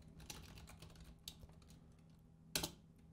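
Keys tapped on a computer keyboard while coding in a Unity tutorial, a few sparse quiet clicks ending in one sharper cluster of strokes, with no talk.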